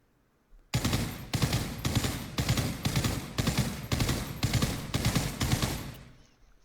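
A British Bren light machine gun fires in Pavlov, a virtual-reality shooter, in about eight sustained loud bursts of rapid automatic fire with brief pauses between them, close and alone, trailing off at the end.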